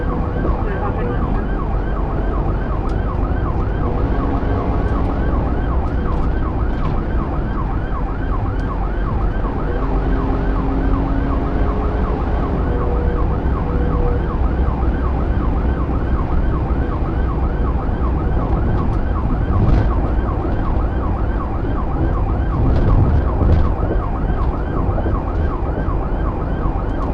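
Police car siren wailing continuously through a high-speed pursuit, loud and steady with the sweeping tone cycling over the rumble of the speeding vehicle, and no clear talk over it.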